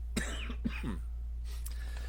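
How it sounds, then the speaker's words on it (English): Two or three harsh coughs up close, followed by a quieter throat-clearing, over a steady low hum. "This guy's coughing himself to death."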